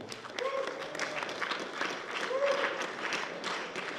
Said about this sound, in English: Let's hear a round of applause for our sponsors today.